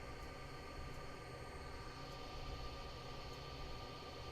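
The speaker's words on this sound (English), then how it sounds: "I can already hear a train coming" An approaching freight train in the Train Simulator 2022 video game, on the Rio Grande route near Salt Lake City, sounds as a steady, faint, continuous rumble with faint periodic clicks.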